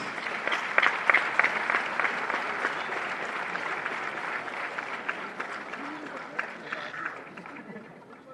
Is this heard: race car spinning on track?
no